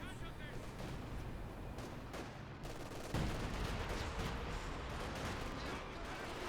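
Panzerwerfer rocket barrage in Company of Heroes 2 combat, a dense rumbling wash of distant blasts and gunfire that jumps louder midway with a heavy impact and continues as sustained battle noise.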